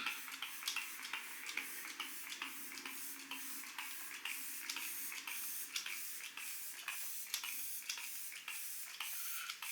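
Rapid repeated spritzes from a face setting spray bottle, a dozen or more quick hissing bursts in a steady rhythm, close and fairly quiet.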